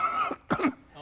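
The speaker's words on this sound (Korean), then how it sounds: "되게 기침하잖아요" Two distinct coughs, the second harsher and followed by a short tail, from a man suffering from bronchitis; close and fairly loud, with a quiet room behind them.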